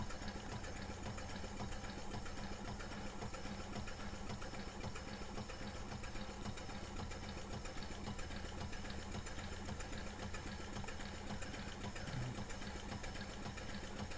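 Model Allen 10-Wheeler locomotive running on compressed air, a steady, faint mechanical chuffing and whirring with an even rhythm that continues without pause.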